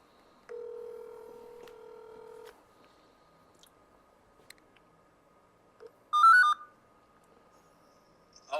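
A phone number is tapped out as touch-tone beeps, then a longer dual tone follows after a pause, all fairly quiet in an otherwise still room.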